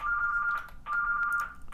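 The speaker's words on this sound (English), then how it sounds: "shush phone." A telephone on a business line rings in two close electronic trill bursts separated by a short gap, fairly loud and clear with no talking.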